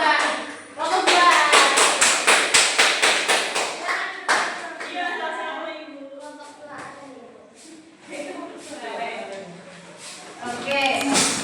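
A classroom of students claps for a student group with a burst of rhythmic, fairly loud clapping and thumps. Children's voices and chatter follow as the clapping fades.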